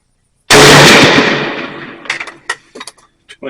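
A single loud, close gunshot from reprocessed old ammunition bursts out sharply and rings into a long fading decay, followed by a few small scattered clicks and knocks.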